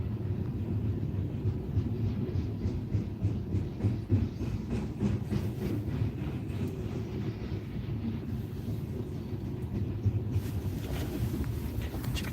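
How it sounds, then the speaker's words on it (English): A long CSX freight train rolls past steadily in Oxford, Ohio, a continuous low rumble with rhythmic clanking of cars, heard from nearby without any talking. "I know it's a long train."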